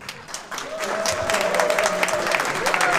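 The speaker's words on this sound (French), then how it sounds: "On l'applaudit encore, s'il vous plaît, chers invités" Wedding guests at a Paris reception applauding after a speech, a full sustained round of clapping from a crowd with a voice heard over it.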